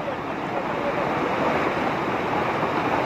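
Floodwater rushes across a road in Ramnagar, Uttarakhand, strong enough to sweep away a car. It makes a steady, loud, broadband roar with no breaks and no voices.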